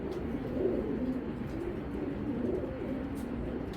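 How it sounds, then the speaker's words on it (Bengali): A female racing pigeon of a foreign bloodline coos in a low, soft, steady murmur close by, with faint bird chirps in the background and no talk. "আর দেন একটা মাদি কবুতর"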